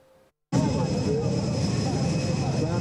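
Loud, steady engine roar of an airplane at Medina airport, carrying pilgrims from Kogi State, Nigeria; the sound starts abruptly after a moment of near silence and holds as a close, continuous drone.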